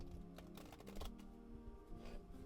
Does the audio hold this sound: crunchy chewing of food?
no